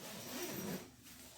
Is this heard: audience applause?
no